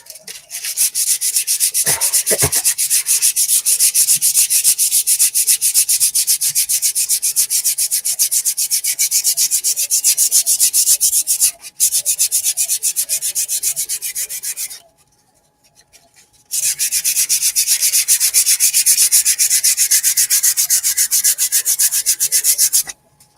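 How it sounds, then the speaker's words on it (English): Steady, loud abrasive sanding on wood runs almost continuously, a dry rubbing hiss broken by one short pause near the end, with no voices present. "I hate watching people sand. I hate watching me sand."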